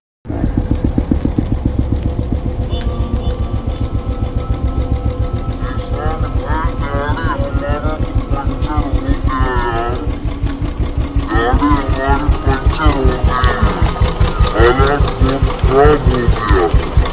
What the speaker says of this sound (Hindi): अभी हम लोग यहाँ से बाइक से जा रहे हैं